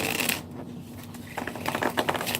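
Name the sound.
shuffling tarot cards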